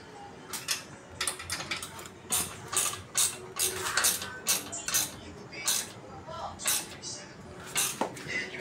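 A ratchet wrench clicking in quick rhythmic bursts while bolting a crossbar bracket onto a Mitsubishi Pajero, close and sharp, with short pauses between strokes and someone talking at times.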